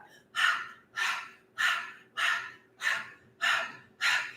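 Seven forceful, evenly spaced breaths push out one after another in a steady rhythm, each a close, airy rush that quickly trails off.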